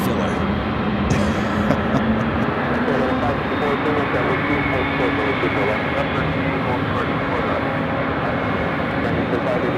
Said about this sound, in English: to me, the plane sound is the most important